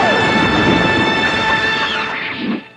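Anime lightning wave attack effect: a loud, sustained crackling rumble with rain-like hiss and thunder roll, steady for over two seconds before a final surge and sharp cutoff, with no talk over it.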